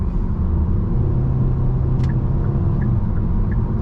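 A Hyundai Sonata cruising on the road, heard from inside as a steady, loud engine and road rumble that stays even throughout, with a faint tick or two and no talking.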